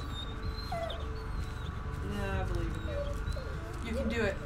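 A dog whimpers in the Blair Witch video game, giving several thin, rising whines spread over a low steady game ambience, while people talk over it.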